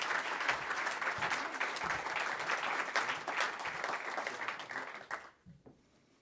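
A crowd at an awards gala claps steadily in sustained applause for several seconds, then the clapping thins out and fades away near the end.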